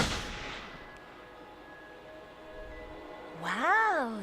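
In the video game Until Dawn, a single gunshot is fired at bottles: one sharp, loud crack at the start that trails into a long fading echo, followed by a voice speaking.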